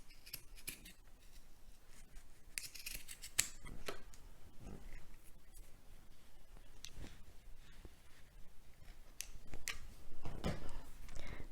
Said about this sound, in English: I can just get my scissors, chop it straight.